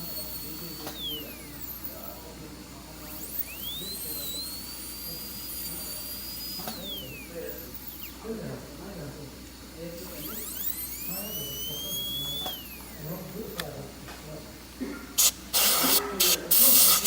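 A dental drill with a 330 bur cuts an upper first molar during a Class II amalgam preparation, giving high whining tones that rise and fall in several bursts over steady spray hiss, with a loud harsh burst near the end.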